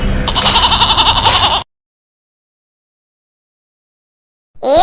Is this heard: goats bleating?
yes